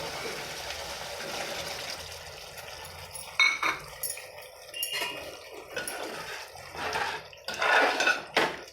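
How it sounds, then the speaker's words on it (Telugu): Water poured into a pot of tamarind fish curry, with splashing and clinking of a vessel against the pot, soft kitchen noise first, then louder pouring bursts toward the end, close by. "ఇలాగ చింతపండు బాగా కొంచెం ఉడికిన తర్వాత ఇందులో ఇప్పుడు మనం వాటర్ వేసుకోవాలి"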